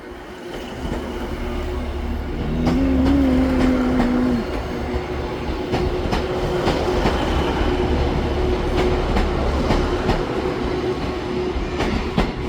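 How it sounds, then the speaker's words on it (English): A Class 150 Northern diesel unit on a terminating service from Hazel Grove pulls into Manchester Piccadilly, loud and close, with a brief tonal squeal early on, then steady wheel clatter and rhythmic rail clicks. "now arriving in is 150, 150"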